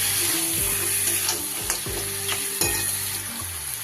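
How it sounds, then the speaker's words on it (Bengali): Fried crab sautés with spice paste in a pan, giving a dense, close sizzle while a spatula scrapes and knocks a few times, with no one speaking. "এবার এর উপরে আমি ভেজে রাখা কাঁকড়াগুলো দিয়ে দিলাম। খুব ভালো করে মশলার সাথে কষিয়ে নেব।"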